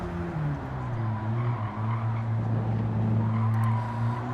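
Abarth 500 in Gran Turismo 7 on the Nürburgring, its small engine droning steadily at high revs with pitch shifting through gear changes, tyres faintly scrubbing underneath, loud and continuous.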